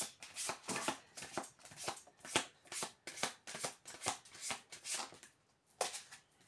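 Oracle cards are shuffled close up in a quiet room, making a rapid series of crisp riffling and slapping bursts that run almost continuously, with no voice over them.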